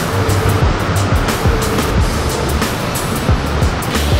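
Waterfall at an orange juice stand in Marrakesh, a steady loud rushing wash of falling water that fills the whole stretch, with faint irregular knocks and street bustle beneath.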